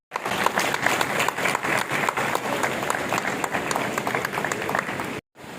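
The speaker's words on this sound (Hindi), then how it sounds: "जोरदार तालियां हो जाए।" Audience members at a technical education service association's biennial convention clap in a dense, lively burst that runs about five seconds, then cuts off abruptly.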